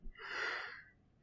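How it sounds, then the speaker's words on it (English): A single drawn-out yawn, a breathy, rising-then-falling exhale lasting about a second, close and fairly quiet, with no talk. "Damn it, stop yawning."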